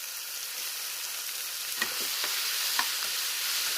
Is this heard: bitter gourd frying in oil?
yes